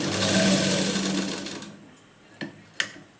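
A sewing machine whirs steadily while stitching, stops, and is followed by two sharp clicks in the quiet.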